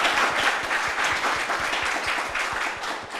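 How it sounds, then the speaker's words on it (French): An audience at a youth political event at a town hall applauds loudly, a dense, continuous burst of clapping that stays strong throughout. "Ça peut s'applaudir très très fort."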